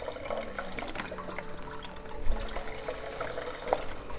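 A full carton of chicken stock glugs into a soup pot, a close, steady liquid pour with small splashes and a couple of louder sloshes partway through.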